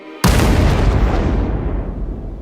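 A Soviet N-1 rocket explodes on its launch pad. A single sudden, massive boom hits and then rolls on as a loud, sustained rumble that slowly fades.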